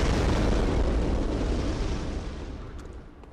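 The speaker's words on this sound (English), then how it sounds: "Ignore that, that's just the sound of cannons." A cannon booms in Bloodborne with a deep, heavy blast that fades into a rumbling decay.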